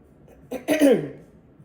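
A person clears their throat once, a close, raspy rasp that swells briefly and then fades into quiet room tone with no speech.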